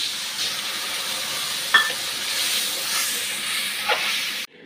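Spices with ginger paste frying in a pan, a steady close sizzle and hiss with occasional scraping stirs and brief metallic clicks.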